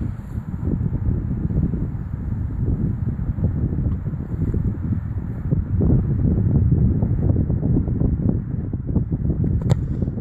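Wind buffets a microphone on a football field during kickoff practice off the ground, a loud, steady low rumble throughout with one faint thump near the end.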